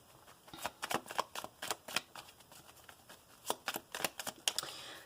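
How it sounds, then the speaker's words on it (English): Tarot cards are shuffled by hand in quick bursts of crisp riffling and slapping, two close rounds of rapid papery clicks with a short pause between them in a quiet room. "I'm going to shuffle it 2 times."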